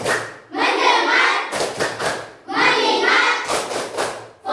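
A classroom of children claps in unison during a chant, giving two long bursts of brisk, crowded clapping, each ending in a few sharp accented claps.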